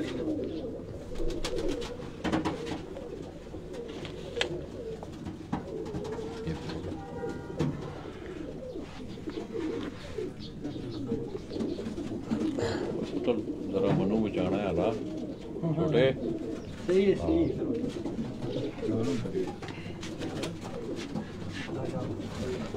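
Several Sialkot pigeons of a fancy breed coo steadily in a loft. The cooing is close and continuous, overlapping with people talking nearby and some background murmur.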